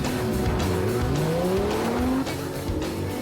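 Race car engine from a Porsche 3.8-litre twin-turbocharged, direct-injected flat six roaring under hard acceleration in a drag race, rising engine notes layered with tyre squeal, loud and close throughout.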